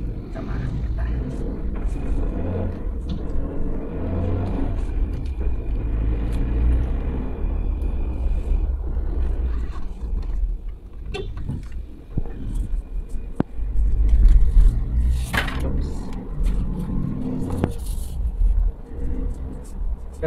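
A lifted Suzuki Jimny JB74 on a JAOS BattleZ basic lift kit driving on a road, with a continuous low engine and road rumble from inside the cabin, a few clicks and knocks over it, and people talking.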